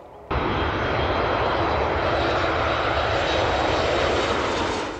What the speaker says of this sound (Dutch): Ik heb lekker vliegtuigen kunnen spotten